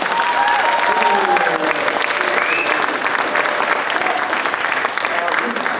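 A crowd at a restoration of civil rights celebration claps loudly and continuously, dense applause throughout with voices and cheers mixed in.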